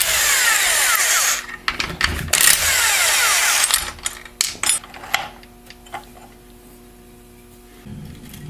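A tool removes bolts from the back of a Turbo 400 automatic transmission case during a rebuild. Loud whirring bursts for a couple of seconds are followed by scattered sharp metallic clicks and clanks, close up, with nobody speaking.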